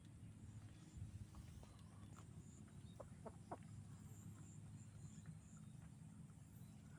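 A rooster and chickens cluck softly in the background with occasional brief calls while being fed, set against a faint outdoor ambience; no one speaks.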